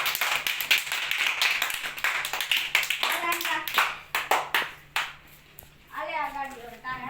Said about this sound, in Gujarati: તાળી વગાડો એના માટે